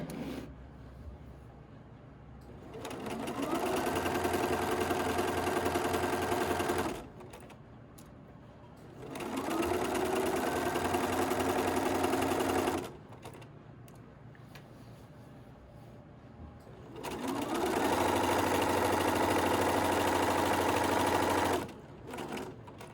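A sewing machine stitching an elastic casing on fabric, three separate bursts of fast, steady mechanical whirring, each several seconds long, broken by short quiet pauses.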